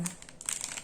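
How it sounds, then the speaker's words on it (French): Backing paper being peeled off stickers, producing a short burst of close, crisp crinkling that rustles unevenly for under a second. "je vais enlever le papier pour vous les montrer"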